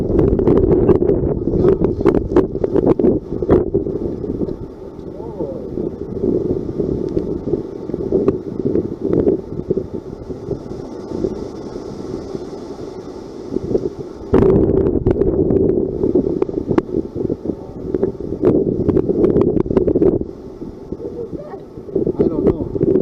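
Hurricane Zeta's winds blow in strong, gusty bursts that buffet the microphone with heavy rumbling, easing briefly between surges, while people talk at times.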